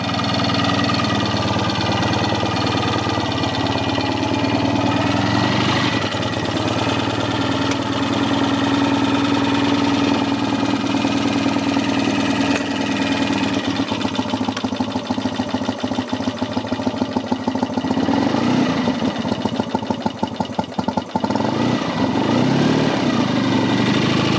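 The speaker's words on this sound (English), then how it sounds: "Wants a bit more running and then it will tick over okay." A classic BSA motorcycle engine, still a little cold, runs and idles close by with a steady, unbroken throb that holds for the whole stretch, with no talking.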